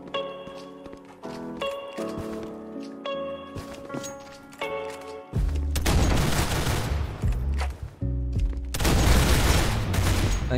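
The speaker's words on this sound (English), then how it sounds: "Burst fire mode." Burst-fire gunshots in a Roblox first-person shooter match, sharp clustered cracks over game music, followed by a denser, louder run of rapid fire and noisy blasts toward the end.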